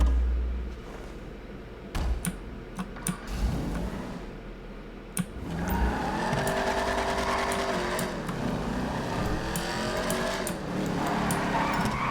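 A Trans Am's engine in a racing video game, a few scattered clicks and knocks at first, then a loud, steady engine hum that swells and dips in pitch as revs climb and fall.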